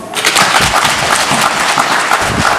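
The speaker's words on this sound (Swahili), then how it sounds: "makofi kwao" Applause from a church congregation at an outdoor Maasai building fundraiser service, a steady, fairly loud wash of clapping that carries on unbroken throughout.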